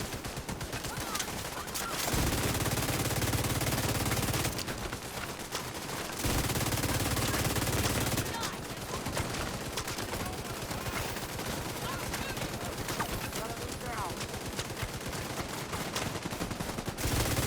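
Enemy gunfire in the video game Angel Mask: dense, continuous bursts of shooting with brief pauses, loud and busy throughout.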